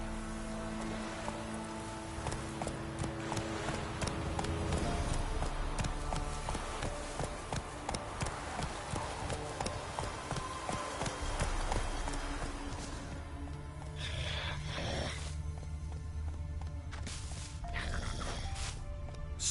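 Horse hooves gallop in a steady clip-clop rhythm through a Witcher 3 video game scene, loud and continuous with occasional snorts over game ambience, slowing near the end.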